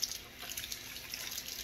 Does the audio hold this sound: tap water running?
yes